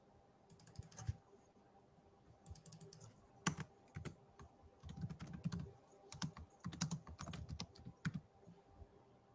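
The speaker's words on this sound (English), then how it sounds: "Now type in Donald J. Trump." Fingers type on a computer keyboard in quick bursts of close clicky keystrokes, separated by short pauses, with no talk over them.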